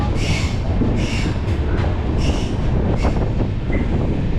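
The Mangala Express passenger train running through Kerala, a loud, constant rumble with recurring squeals and clatter heard from inside a crowded general coach, no talk.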